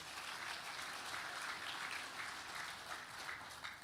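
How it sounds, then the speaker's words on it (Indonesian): Steady audience applause at an official Indonesian government ceremony honouring the military and the launch of village cooperatives, a dense, even wash of clapping that holds at one level throughout with no voices. "Tepuk tangan untuk TNI dan Agrarian Pangan."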